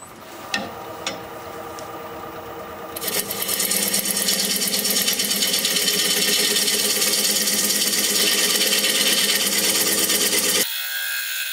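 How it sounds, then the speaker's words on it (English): A wood turning tool is sharpened on a powered grinder in a woodworking shop: a few light taps, then a steady loud grinding whine from about three seconds that runs on until it cuts off near the end, with no talk. "I really should go sharpen up one more time"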